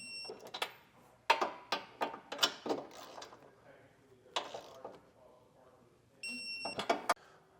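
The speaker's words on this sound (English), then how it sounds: "Let's go through all four of the nuts and get them torqued down." A torque wrench ratchets on the nuts of a Curt trailer hitch being fitted to a 2025 BMW X3, giving clusters of sharp metallic clicks in short bursts, with a faint tonal ring near the end.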